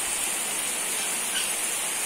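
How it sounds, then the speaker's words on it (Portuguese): Light rain falls in a steady, soft hiss, close and even throughout, with no voices over it. "Olha a chuvinha, que gostoso."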